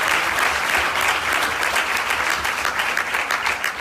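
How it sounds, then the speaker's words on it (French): Steady, loud applause from an audience at a university eloquence contest, greeting the jury with continuous dense clapping from start to finish. "Donc je vous prie de les applaudir"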